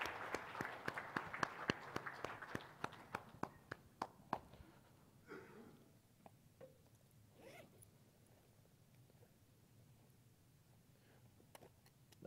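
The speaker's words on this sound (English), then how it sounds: "Round of applause for this gentleman." A small audience at an OpenStack tech talk claps for a prize winner, a faint scattering of handclaps that is brisk at first and then thins into sparse claps with murmuring voices.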